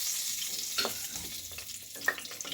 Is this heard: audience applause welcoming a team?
no